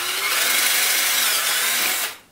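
A power drill fitted with a 5/16 inch (8mm) bit bores straight through a 3D printer part during Reprap Wilson TS assembly: a loud, steady high whine for about two seconds before it stops abruptly.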